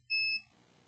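Multimeter continuity tester beeps once while probing from a current sensor to capacitors during an electronics board repair, a short steady high-pitched tone lasting about a quarter second, then quiet room noise.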